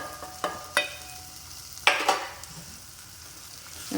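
Turmeric and chili powder being stirred in a hot pan for a small-sardine curry: a soft background sizzle broken by a few sharp scrapes and clicks of the spoon against the pan, with no talk.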